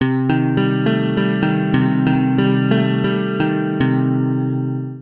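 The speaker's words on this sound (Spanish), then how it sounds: "Tiene un sonido muy interesante esta guitarra" A sampled Fender Telecaster guitar virtual instrument played with reverb, sounding a steady run of bright, evenly spaced plucked notes that ring into one another, loud and close, then fading out at the end, with no talking.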